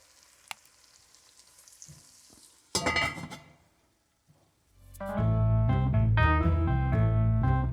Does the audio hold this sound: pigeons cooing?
no